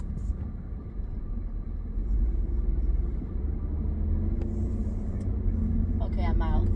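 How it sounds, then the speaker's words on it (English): Heavy road traffic rumbles past in a continuous low drone, vehicles passing close by and the roar swelling slightly over the clip. "the amount of traffic that is on the road"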